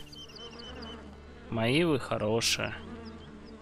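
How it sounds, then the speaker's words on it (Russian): Bees from a Russian village simulator video game drone in a soft, steady buzz throughout, while a voice speaks briefly over the middle of it. "Пчелы."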